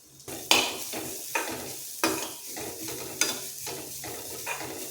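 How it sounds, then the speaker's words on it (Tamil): Grated coconut roasting in ghee in a pan for a sweet made with poha, stirred with a utensil that scrapes the pan in about eight sharp strokes over a soft, steady sizzle, close and moderately loud with no voices. "அதில் அரை கப்பை விட கொஞ்சம் கம்மியாக தேங்காய் துருவல் இருக்குது அதை வ வறுத்து எடுத்துக்குவோம் வாசம் வர்ற வரைக்கும்"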